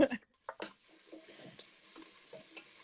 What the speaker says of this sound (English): I'm throwing in a celery too, just to saute that